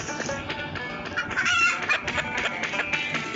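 Chickens in the Stickmin video game cluck and squawk in quick, busy bursts over a steady game backdrop, with a short crow-like call rising in the middle.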